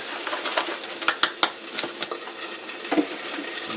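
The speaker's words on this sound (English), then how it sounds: "Give this a whisk." Batter for a corndog bake is whisked in a bowl: quick, irregular clicks and taps of the whisk against the bowl, close and fairly bright, with a wet swishing underneath and no talking.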